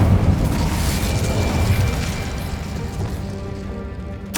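Incendio fire spell blasting in Hogwarts Legacy, a loud dense burst of roaring flame with a heavy rumbling body that slowly thins out, then a sharp new hit right at the end.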